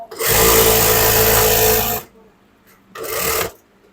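A sewing machine runs in two bursts while stitching trouser fabric during a tailoring lesson: a steady, loud whir of about two seconds, a pause, then a shorter half-second run, close up with no talk.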